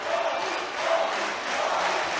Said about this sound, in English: Crowd cheering him on, shouting Tom.